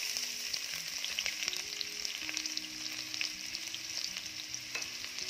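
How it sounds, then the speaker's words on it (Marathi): Finely chopped onion sizzles steadily in hot oil in a kadhai, a dense, continuous frying crackle close up, with faint stirring scrapes and no voices. "तेल गरम झालं की यामध्ये मी टाकते बारीक चिरलेला कांदा."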